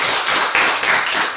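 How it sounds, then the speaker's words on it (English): A church congregation gives a round of applause for Gideon after his quiz answer, a dense, steady burst of many hands clapping, loud and close for about a second and a half with no voices over it. "give him a big round of applause"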